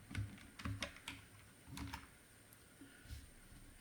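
Quick bursts of keystrokes on a computer keyboard, a handful of close, light clicks in an uneven rhythm with short pauses, no talk.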